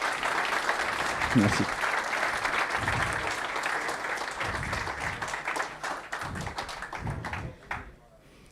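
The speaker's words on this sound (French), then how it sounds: "On a le droit d'applaudir. On les applaudit." Audience applause at a French tech conference session, a dense burst of clapping from a crowd that thins and fades out near the end, with someone speaking over it.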